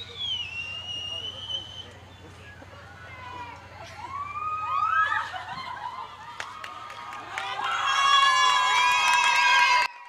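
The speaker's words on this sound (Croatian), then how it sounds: "Tomislav Praćan velikim pljeskom okupljenih kolega, učenika škole" A gathered crowd of colleagues and students outside a school cheers and shouts, with whistles and horn-like tones, the noise swelling to a loud roar near the end.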